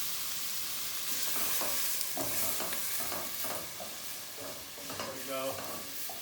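Onions softening in a pan give off a close, steady sizzle, with spoon-scraping stirs that come at intervals. One voice speaks briefly over the cooking.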